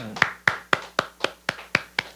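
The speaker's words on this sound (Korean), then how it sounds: "우리 하나님께 감사의 박수 올리겠습니다." A church congregation at a Friday worship service claps in quick, steady unison, about nine crisp, evenly spaced claps over roughly two seconds, with no talking.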